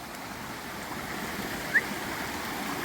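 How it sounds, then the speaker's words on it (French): Water running steadily along a channel feeding a historic spoon-type water wheel, a continuous close rushing flow with one brief splash and no talk. "L'eau arrive par là."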